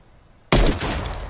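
Gunfire from the video game Call of Duty Warzone on Rebirth Island: a loud sudden burst of shots that cuts in after a quiet moment and carries on as a dense rattling stream.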